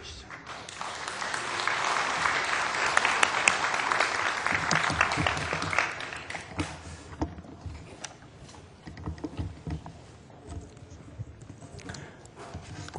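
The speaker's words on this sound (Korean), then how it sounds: "나오실 때 여러분들 뜨겁게 박수로 환영해 주시면 감사하겠습니다." A church general assembly audience gives a dense burst of applause welcoming a keynote speaker, loud and sustained for several seconds before thinning into scattered claps and room noise.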